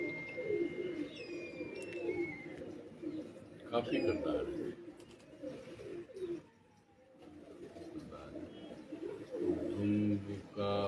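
Pigeons coo in soft, repeated throaty calls close by, weaving in and out beneath someone talking.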